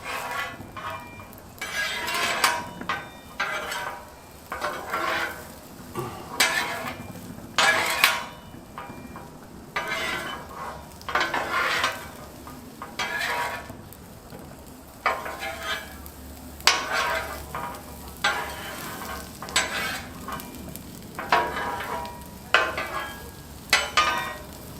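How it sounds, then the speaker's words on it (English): Mushrooms sizzle in oil on a hot Blackstone griddle while a spatula stirs and scrapes them, with steady frying hiss and repeated sharp scraping strokes close by, no talk. "All you're going to want to do is just stir these around, kind of get them in the oil"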